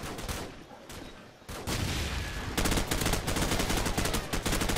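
Rapid automatic gunfire rattles continuously in a Call of Duty Modern Warfare mod, with sparse shots early, then dense bursts and a steady fast machine-gun rhythm in the final two seconds, loud and close.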